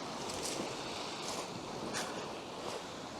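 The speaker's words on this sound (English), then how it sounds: "the waves are lapping up very close to my feet" Sea waves lap at the water's edge on the shore at Pagham Harbour nature reserve, a soft, steady wash with small swells, faint and close, under light wind noise.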